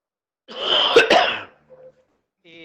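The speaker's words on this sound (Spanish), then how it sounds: "Alguien que está tosiendo tiene el micrófono abierto." A single harsh cough burst over an open microphone, close and fairly loud, followed by a brief throat sound and then quiet.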